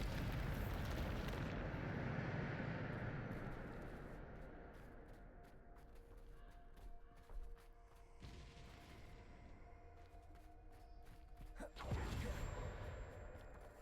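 Spell blasts in the Hogwarts Legacy video game: a heavy, broad rumbling explosion with a long decaying roar, a smaller thud midway, and a second sharp blast near the end.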